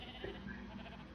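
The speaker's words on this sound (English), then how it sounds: "Ooh, there's lots of sheep here." A faint sheep bleats in a video game, a short wavering cry over a quiet, steady background, with no one talking.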